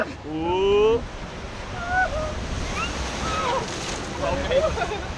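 Rushing, sloshing water roars around the Piranha river rapids ride at Efteling as it splashes down, while riders shout and exclaim in Dutch over the noise.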